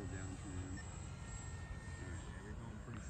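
An RC plane engine drones steadily overhead during an FPV flight at a flying field, its pitch wavering slightly, with people talking nearby over the top of the engine noise.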